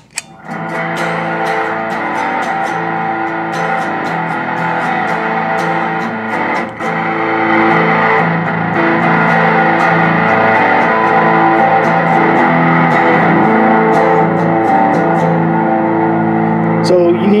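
A guitar runs through the new Fender Trapper fuzz pedal with its knobs set at noon, giving a steady, loud, sustained fuzzed tone with dense buzzing harmonics that rings continuously, with a brief dip partway through and no talking.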